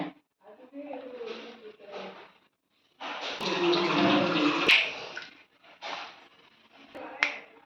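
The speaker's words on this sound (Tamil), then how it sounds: "இப்படி வடிகட்டி புதினாவை புழிஞ்சு எடுத்துக்கோங்க" Ground mint rasam mixture is strained and squeezed by hand, with wet splashing and dripping in bursts, a louder sustained pour in the middle, and brief clicks.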